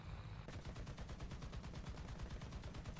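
Rapid machine-gun fire in the combat video game War Thunder, a steady stream of evenly spaced shots that starts abruptly after a brief lull and continues loudly throughout.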